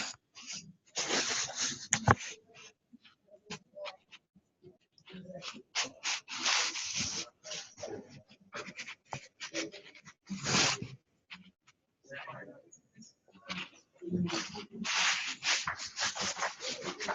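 Marker or chalk scraping across a board during a computing lecture, irregular bursts of rubbing strokes and taps with short gaps, fairly close and moderately loud.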